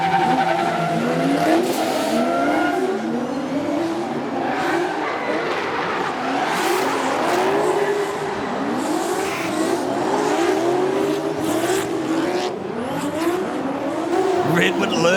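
Drift cars, one with a Toyota 2JZ engine, slide through a D1NZ round at Mt Smart Stadium with wailing tire squeal and revving engines that swell and fade, while a commentator talks over the whole run.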